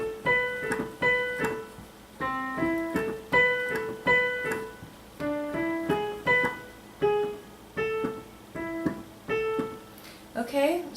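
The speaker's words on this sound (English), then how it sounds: "So what you want when you've got a two-note slur and the second one is staccato" Piano playing a run of two-note slurred figures, each first note fuller and the second clipped short and detached, repeated in a steady pattern at close range with no talking.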